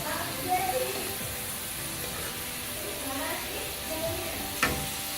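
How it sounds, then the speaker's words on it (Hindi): Homemade potato French fries frying in hot oil, a steady soft sizzle with faint stirring and a brief sharp clink near the end. "ये देखिए कितने मज़े मज़े के चिप्स तैयार हो रहे हैं।"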